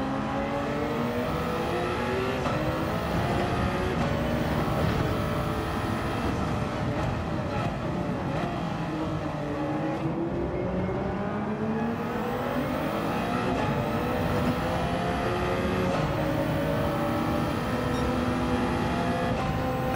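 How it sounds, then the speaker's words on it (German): Electric-powered race car in Gran Turismo 7, a steady high whining motor tone that rises and falls with throttle, loud and continuous throughout with no talk over it. "der hat einen enormen E-Power-Motor"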